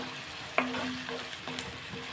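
Onions fry in a pan with a faint, steady sizzle while a spoon stirs them, giving a few soft scrapes and clinks against the pan, quiet and close.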